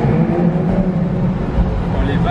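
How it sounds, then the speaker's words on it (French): A car engine drones inside a tunnel, a low, resonant, steady hum at light throttle that stays close and continuous, with faint talk over it. "Qui dit tunnel dit résonance et au moins on peut entendre le bruit de la voiture sans être trop accéléré."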